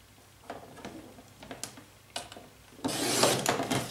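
A paper strip being cut to half an inch with a trimmer, quiet close ticking and rubbing clicks of the blade carriage, then a louder rough scraping slide at the end.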